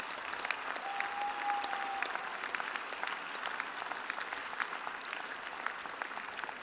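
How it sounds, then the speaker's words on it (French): Crowd applause at the opening of the Fête de l'Humanité festival, a large outdoor audience clapping steadily and densely for several seconds with a faint whistle-like tone early on. "lorsqu'on applaudit Thibault"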